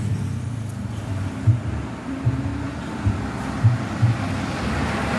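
A Gunung Harta M3 bus on a Madura route rolls past on the road with a steady low engine and tyre rumble and faint wind, plus a few soft thumps.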